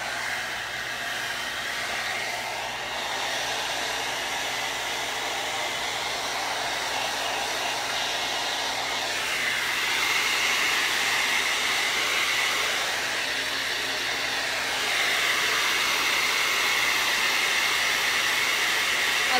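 Hair dryer blowing steadily to dry green paint on a watermelon painting, a loud, continuous close whoosh lasting throughout without pause, with no voices over it.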